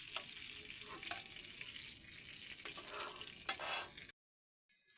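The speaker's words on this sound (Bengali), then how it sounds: "দিয়ে পেঁয়াজটা লাল করে নেব।" Onion frying in a pan after gourd slices were fried, a steady close sizzle with a few brief stirring scrapes, then a short pause before the sizzle resumes.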